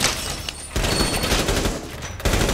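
Rapid bursts of gunfire from the video game Rainbow Six: Siege crack close and loud, coming in dense volleys with a brief lull between them and no talking.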